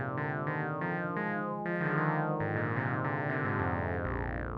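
Bright synth tones from a Cherry Audio Oberheim SEM emulation with strongly resonant, ringing harmonics, resonance near 100%, each note sweeping and pulsing as the filter shifts, played alone without voices.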